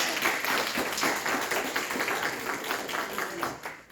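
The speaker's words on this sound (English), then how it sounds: "So please give an applause to Ms." Applause at a gathering for a woman who owns a professional cleaning business, a dense, moderate crowd clapping that runs steadily for several seconds before tapering, with voices mixed in.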